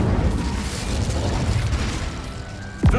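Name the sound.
Incendio fire spell in Hogwarts Legacy video game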